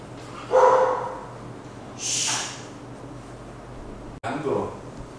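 A dog barks indoors at close range in a few separate bursts, a sharp one at the start and more later, with some noise mixed in between.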